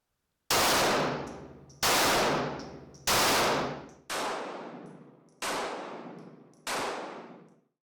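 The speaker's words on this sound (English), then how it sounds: "The first rounds we're going to fire are a traditional hollow point from a very well-known manufacturer." Six sharp gunshots from hollow point rounds ring out one by one about a second apart, each loud blast close up and trailing off in a long metallic echo, with no voices.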